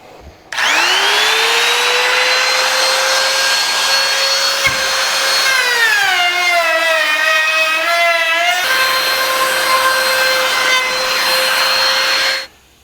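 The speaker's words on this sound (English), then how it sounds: "you still want to take the sharp edges off, so we're going to router it." A router spinning up and cutting along the edges of a wooden countertop, a steady high-pitched whine that dips in pitch under load as the bit bites, then recovers, running continuously for about twelve seconds.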